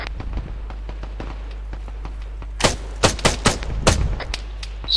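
Game gunfire in the video game STALKER crackles in sharp bursts, with faint shots at first and then a cluster of loud, close rounds.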